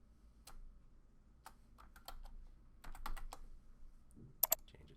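Keys clack in short bursts on a computer keyboard while a new calendar name is typed in Office 365, crisp near taps scattered with brief pauses, no voices.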